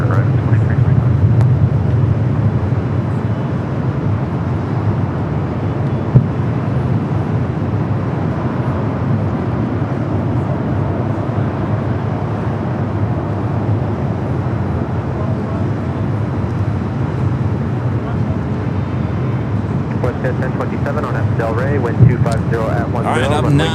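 Boeing 747 jet at LAX on runway 24 left, a loud steady broadband roar held for the whole stretch, with wind buffeting the microphone and a voice talking over it.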